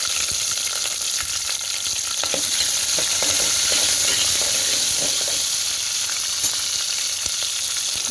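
Onion and green chilies sizzle loudly in hot oil with garlic, mustard seeds, cumin and fenugreek for a dried prawn curry, a dense continuous frying hiss with occasional stirring scrapes throughout.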